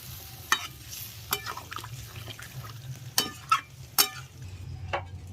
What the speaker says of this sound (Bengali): এবার আমি অল্প পরিমাণ জল দিয়ে দিচ্ছি, কেননা ডিমটা কষা কষা করতে হবে